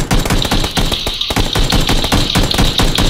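Sustained automatic gunfire in PUBG, rapid bursts of shots hammering at a building, dense and loud with barely a pause across the whole stretch.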